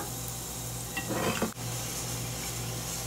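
Cumin, fenugreek and dried red chillies sizzle in hot oil as a tempering for kadi pakoda, a steady close crackle with a brief burst of stirring or tossing in the middle.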